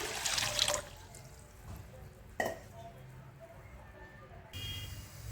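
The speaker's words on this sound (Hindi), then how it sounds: "अब इसी कढ़ाई के अंदर हम डाल देंगे पानी को और पानी को अच्छी तरह से बॉईल होने देंगे।" Water poured into a kadhai (wok) in a home kitchen to bring it to a boil: a short, splashy rush at the start, then fading to a quiet, faint trickle.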